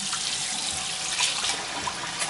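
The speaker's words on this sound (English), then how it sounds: "So, you just keep washing your rice until it runs" Kitchen tap runs steadily into a sink while rice is washed, a constant loud hiss of splashing water with faint sloshing, close and uninterrupted, no voices.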